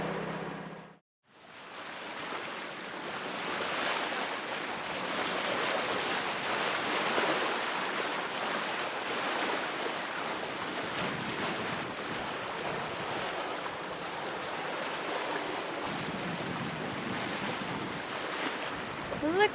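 A sailboat motor-sailing with sail raised off the coast of Norway, bound for a port 25 miles away: steady close wash of surf and waves against the hull mixed with buffeting wind noise, continuous throughout with no talk.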